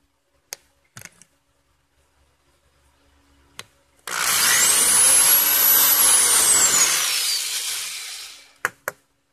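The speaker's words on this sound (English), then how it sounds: "make sure that I'm drilling straight up and down" A few light clicks and taps, then a close power drill whirs for about four seconds drilling a hole in a Scrabble tile, its pitch rising then falling, followed by more handling clicks.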